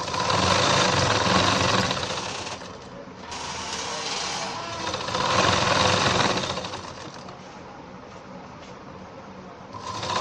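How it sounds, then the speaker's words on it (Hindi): Sewing machine stitching elastic held taut on ladies' pants, a continuous mechanical whir in bursts that rise and ease as stitching runs, close and fairly loud. "इलास्टिक को हमने पूरा तान रखा है, बीच में हम सिलाई लगा रहे हैं इसके।"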